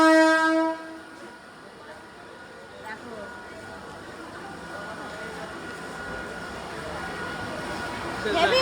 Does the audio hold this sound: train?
yes